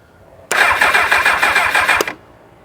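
A 1999 Kawasaki ZX6R motorcycle engine with its choke on cranks and catches, running loud and close for about a second and a half with a rough, pulsing tone before cutting out abruptly.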